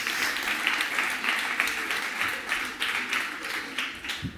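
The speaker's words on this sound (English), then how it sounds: "big applause for Alejandro Mateo, Lucia Garcia, and Noah Tardon" An audience claps for a children's competition team at an outdoor playground stage, a moderate, steady patter of many hands with slight surges, heard alone without speech.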